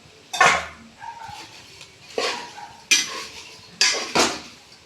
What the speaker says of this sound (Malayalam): ഇറച്ചിയിട്ട് മിക്സ് ചെയ്യും.